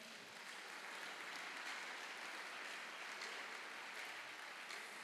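A church congregation claps and cheers in praise of the Lord, a steady wash of applause from many hands that holds for several seconds without pause.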